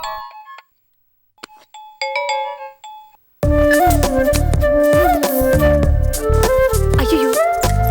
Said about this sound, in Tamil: ஃபோன் அடிக்குதுடி.